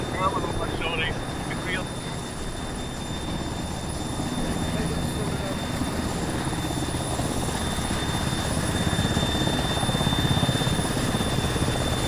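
Helicopter in the video game Arma 3, a steady broadband rotor and engine drone running throughout at fairly close range, with voices talking over it.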